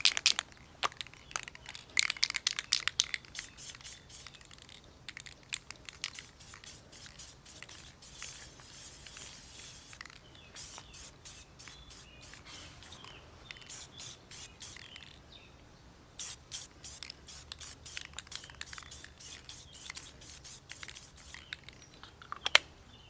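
An aerosol can sprays a third coat of black paint over the chrome trim of a 2020 Nissan Rogue special edition, with close, intermittent hissing bursts and rapid clicking that come and go in clusters.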